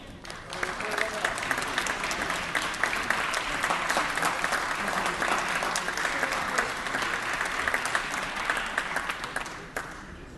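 Sustained applause from an assembly welcoming Terra Linda High School students from San Rafael, steady and even throughout, with a brief murmur of voices underneath.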